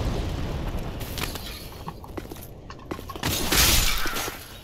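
A fire bomb thrown in a video game bursts with a shattering crash and a fiery whoosh, followed by a louder roaring flare of flames near the end.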